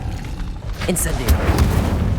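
In the Harry Potter video game an Incendio fire spell is cast, giving a whooshing burst over dense game sound with low rumbling and booms. Voices are heard alongside it.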